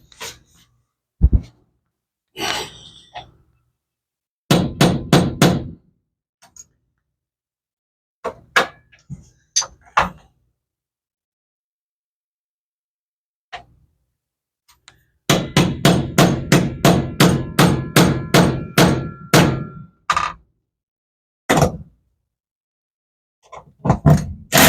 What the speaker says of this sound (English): Well, I guess it's hammer time then.